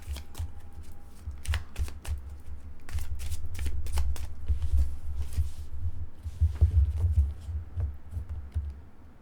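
A deck of tarot cards is shuffled and drawn by hand, a loud, close riffling and flicking that runs almost continuously with brief pauses and a few sharper snaps, with no one speaking.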